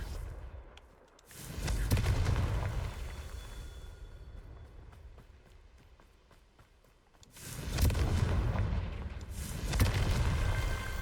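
Confringo blasting spells in Hogwarts Legacy, heavy booming explosions with low rumble, one burst near the start and another around eight seconds, over a steady game ambience between them.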